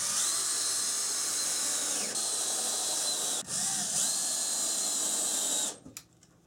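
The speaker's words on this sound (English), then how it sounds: "Now let's get some screws in it before it falls down." A power drill drives screws into the ceiling paneling of a vintage Shasta camper trailer, whirring steadily and close up for several seconds with brief pitch dips between screws, then cutting off near the end.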